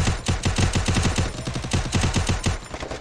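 Rapid automatic gunfire rings out in a 4v4 online shooter match, with bursts of closely spaced shots forming a fast, steady rattle that carries on for about three seconds.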